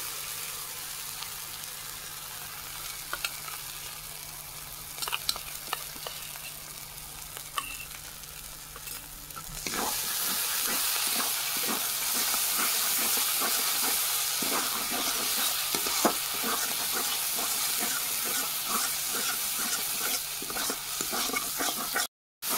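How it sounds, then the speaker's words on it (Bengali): Poppy-seed spice paste with black pepper and cumin fries in oil for a Bengali paneer dish, a soft sizzle at first that swells into a loud, steady hiss with the scrape and clatter of stirring, close and without speech. "মশলা কষানো হয়ে গেছে, মশলা থেকে তেল ছাড়তে শুরু করেছে"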